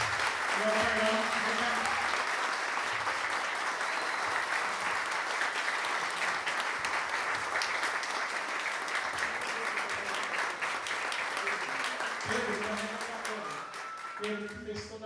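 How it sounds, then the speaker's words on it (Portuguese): A church congregation applauds the choirs after a Christmas cantata at a Baptist church, steady dense clapping filling the hall throughout, with voices and some singing or speech surfacing beneath it near the start and end. "uma salva de palmas para os corais, o coral"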